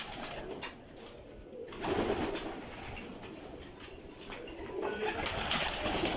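Pigeons coo at a rooftop pigeon house in Kotli, Azad Kashmir, in soft repeated calls, with brief wing flaps and rustling, moderately close and without talk.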